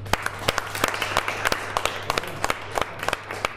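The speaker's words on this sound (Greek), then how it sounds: "ένα ζεστό και δυνατό χειροκρότημα και για τους εκλεκτούς προσκεκλημένους, αλλά και τους εξαιρετικούς μουσικούς μας" Scattered, fairly sparse hand clapping for invited guests and musicians at a music event at Profitis Ilias in Kavala. The claps are sharp and individually distinct over a steady low hum, close and moderately loud.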